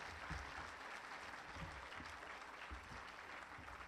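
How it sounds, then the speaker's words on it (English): An elementary school assembly crowd gives parents a round of applause, heard as a faint, distant wash of steady clapping with a few sharper claps near the front. "How about a nice round of applause to our parents?"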